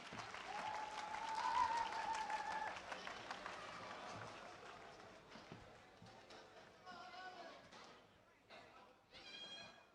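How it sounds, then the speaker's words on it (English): Crowd applause and cheering at a wet podium ceremony after a Junior X30 kart racing final, a dense, loud wash of clapping for several seconds that thins out, with a voice talking over it and brief musical tones near the end. "One big final round of applause for Junior"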